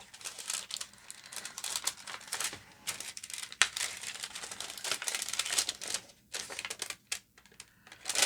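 Paper handled while making envelopes from junk mail: irregular crinkling, rustling and tapping close by, in uneven bursts with short pauses, no talk.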